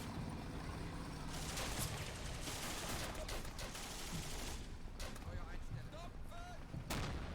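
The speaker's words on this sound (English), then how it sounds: "King gun is under plenty of fire" Gunfire in the Combat Mission Afrika Korps video game, a dense, continuous stretch of distant booms and crackling shots layered over each other, with a few brief whistling sounds toward the end.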